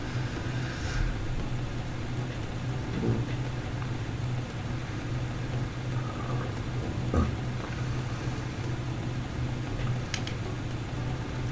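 A motorcycle engine idles in a video game scene, a steady low rumble that runs evenly throughout with no revving, alone and moderately loud.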